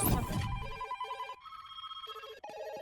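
A phone ringtone plays a short electronic melody of repeated tones, loud and close, following a brief noisy burst at the start.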